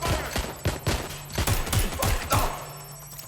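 Rapid gunfire in the Watch Dogs Legion video game, loud sharp bursts cracking in irregular succession over a dense rumbling backdrop for several seconds.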